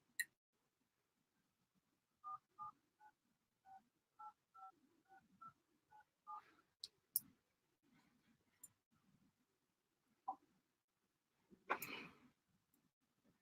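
Telephone keypad tones beep out a ten-digit number in a quick, evenly spaced string of short, clear notes, followed by scattered faint clicks and a brief louder burst in a quiet room.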